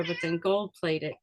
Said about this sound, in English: Excuse my cat here.